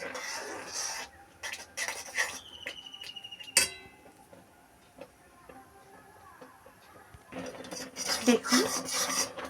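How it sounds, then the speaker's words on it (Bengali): A metal spatula stirring vermicelli in a pan on the stove, producing intermittent scraping and rasping strokes of varying loudness, with a sharp clink partway through and sizzling in the background. "ঘন ঘন খুন্তি দিয়ে নাড়া দিতে হবে"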